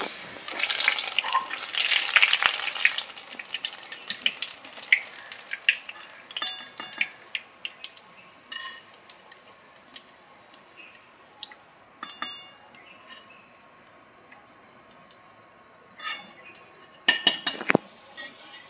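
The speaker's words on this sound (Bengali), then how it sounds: "দেখুন কত সুন্দর ভাজা হয়ে যাচ্ছে।" Gram flour batter drops for boondi fry in hot oil with a steady, bright crackling sizzle, loudest at the start and then thinning into scattered pops and sharp clinks of a metal utensil, with no talking.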